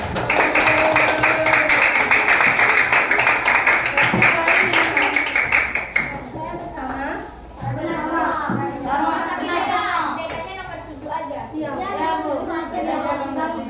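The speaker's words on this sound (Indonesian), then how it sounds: "Tepuk tangan untuk kelompok 4." Students in a classroom clap for a group, a brisk patter of hands lasting several seconds before giving way to a teacher talking and children's voices.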